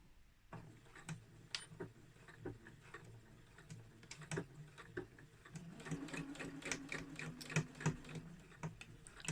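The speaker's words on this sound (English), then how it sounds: "I'm going to stitch all the way down to the first corner." A domestic sewing machine stitches fabric for a drawstring bag, its needle ticking in quick close bursts with short pauses between runs, heard near and fairly quiet with no talking.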